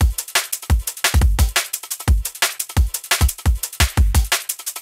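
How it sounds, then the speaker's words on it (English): Laid-back, soulful drum loop with a wonky swing: punchy kicks and crisp snares and hats over several bars, loud and dry, playing alone. "Drum loop by themselves sound like this."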